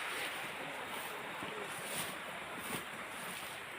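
A river or small stream flows in a steady, broad rush of water, mixed with wind buffeting the microphone, with no voices.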